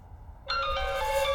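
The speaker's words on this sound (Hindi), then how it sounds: "अरे भाई का फोन आ रहा है यार।" A phone rings in a ringing electronic tone with steady bell-like harmonics that starts abruptly partway through and continues clearly and loud to the end, with no talk over it.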